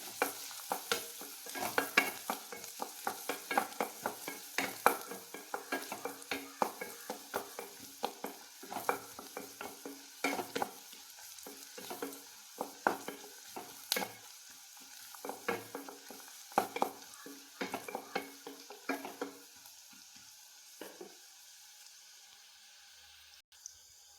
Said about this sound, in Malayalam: ഉള്ളിയൊക്കെ ഒന്ന് ചുമക്കട്ടെ